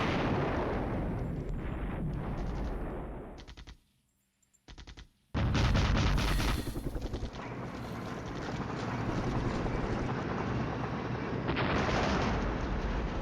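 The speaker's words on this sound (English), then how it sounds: "Continuing to do huge amounts of work here on the B-27 with our artillery." Artillery fire in a NATO-versus-Soviet wargame, a dense, loud barrage of booms and crackling blasts that drops almost to silence for about a second near the middle, then resumes just as heavily.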